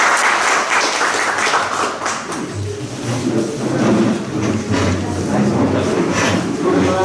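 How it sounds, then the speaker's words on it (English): An audience at a transfer pricing workshop gives loud, sustained applause, dense clapping from many hands continuing throughout with a low rumble underneath. "I request you to carry out the loud applause."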